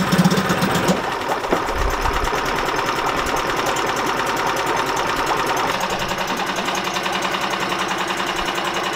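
A small engine, freshly started after priming fuel and applying choke, runs steadily with a fast rattling, buzzing chatter that holds loud and constant throughout.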